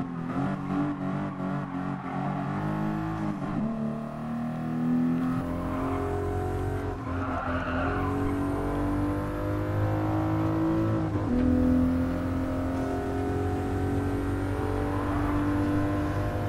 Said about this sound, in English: That turbo whistle.